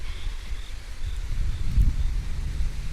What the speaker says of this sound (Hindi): मस्त ठंडी हवा चल रही है